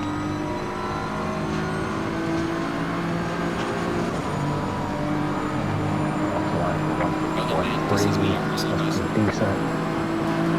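A Porsche race car at Monza speeds up hard out of a corner, its engine droning steadily in a rising, layered tone under a brief spoken word, with some higher mechanical whine late in the run.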